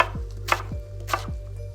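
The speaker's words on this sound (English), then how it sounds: "Again, just roughly chopping it." A knife chops a large onion roughly on a cutting board, giving two crisp, evenly spaced thuds close by over a steady low hum, with no talking.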